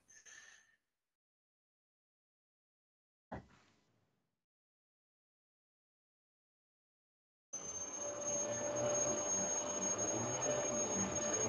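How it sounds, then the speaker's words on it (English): A Hoover vacuum cleaner drones steadily in the background of a room, switching on after a couple of brief clicks and continuing as a constant whirring hum. "Can you hear that Hoover in the background?"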